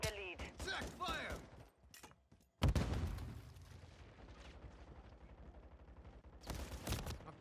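Video game gunfire: a heavy shot bursts in mid-clip, followed by a rapid rattle of shots and another volley near the end, with a voice talking at the start.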